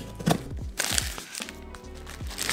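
Someone cuts open a holiday gift box, making a few close, crinkly crunches and rustles of cardboard and packaging in short bursts.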